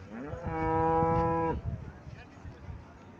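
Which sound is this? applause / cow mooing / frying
cow mooing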